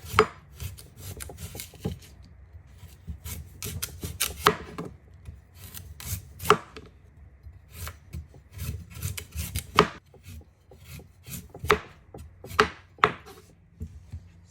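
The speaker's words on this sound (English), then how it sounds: "This is the arrowroot. Right now I'm just going to give it a peel." Arrowroot being peeled by hand, with irregular close scraping and rasping strokes and occasional sharper knocks against a hard surface, fairly quiet with no speech.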